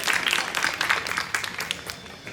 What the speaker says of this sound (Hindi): एक बार आप सबसे आग्रह करूँगा जोरदार तालियां हो जाएं